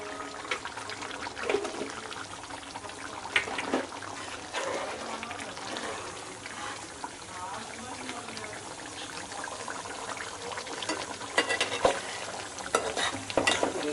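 Mutton curry being stirred in a pot after salt goes in, a steady scraping and swirling with light sizzle and liquid sloshing running throughout, close and fairly busy with small irregular peaks.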